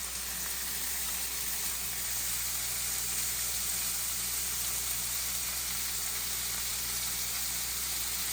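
Strips of bacon cooking in a pan give off a steady, even sizzling hiss that holds from start to finish with no talking over it.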